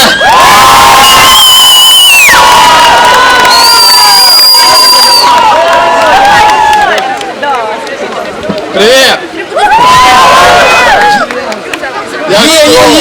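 A live crowd greets the Poltava-region comic rap band with loud cheering, high excited shouts and whoops, many of them sounding like children, rising and falling in waves with brief dips before surging again.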